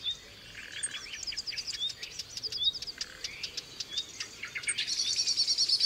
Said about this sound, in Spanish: Y un mirlo que se escapa asustado